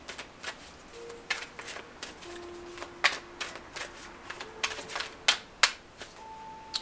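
Oracle cards are shuffled in repeated crisp riffling bursts, close and fairly loud, with short pauses between them and a few faint tones under the card noise.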